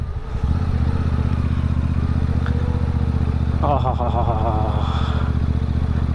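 A motorcycle cruising on a highway gives a loud, steady engine drone with a regular low pulse throughout, and someone talks over it partway through.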